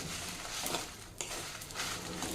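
Dried red chillies frying in a pan give off a steady close sizzle and crackle, with occasional scrapes of a stirring utensil against the pan and no talking.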